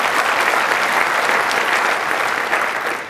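Conference audience at an opening session applauding its sponsors, a dense, steady wash of many hands clapping throughout, loud and continuous with no voices over it.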